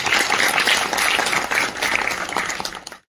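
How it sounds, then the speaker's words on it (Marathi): An audience in a Marathi musical theatre performance applauds a tabla player, a dense, loud burst of clapping that rolls on for about three seconds and then cuts off abruptly. "तबल्यासाठी टाळ्या वाजल्या पाहिजे."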